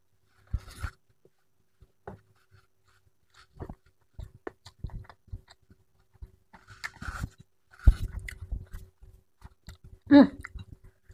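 Close, wet chewing and mouth clicks come from someone eating a meal by hand with instant sambal, petai and squid, in sparse bursts over near silence with no talk.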